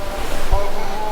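Surf washes onto the beach at Unawatuna, Sri Lanka, as a steady roar with low wind rumble buffeting the microphone.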